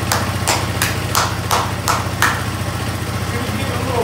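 A Honda ATC 200x three-wheeler engine idles steadily with a low, even pulse, close by, with a few sharp repeated clicks or taps over it and no talking.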